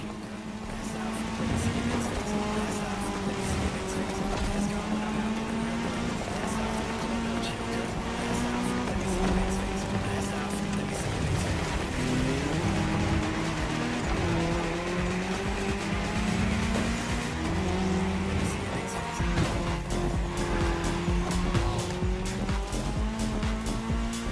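Race cars in The Crew Motorfest driving a cross-terrain race on tarmac, with continuous loud engine drone, shifting revs and tire squeal throughout and faint voices underneath.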